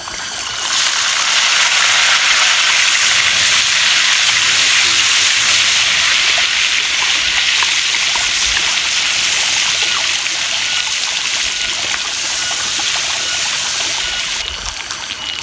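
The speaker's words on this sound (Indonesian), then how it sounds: "Mau goreng sayur sawi pakcoy." Pak choi mustard greens with garlic sizzling in a pan over an outdoor fire in a forest, a loud, steady, hissing fry that carries on without a break, with no talking.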